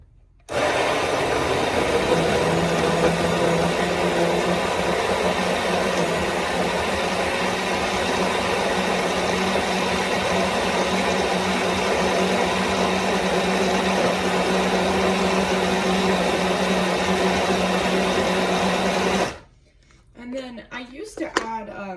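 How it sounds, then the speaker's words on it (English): A blender whirs loudly and continuously while blending a berry almond smoothie, starting abruptly and grinding steadily for nearly twenty seconds before cutting off, followed by a moment of talking. "I'm gonna blend this, make sure my lid is back on."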